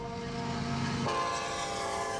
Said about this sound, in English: may even prevent you from hearing the train coming